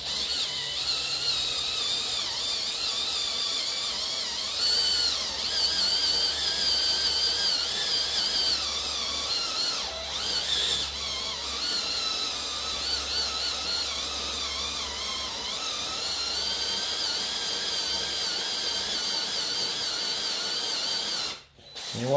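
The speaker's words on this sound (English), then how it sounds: "You want to drill all the way to the bottom of the hole." A power drill whirs steadily for a long stretch, drilling out a head bolt hole in a C5 Corvette LS6 engine block, its high-pitched motor wavering slightly, with brief dips before stopping abruptly.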